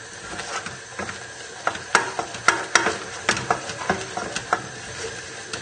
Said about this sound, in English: So just keep stirring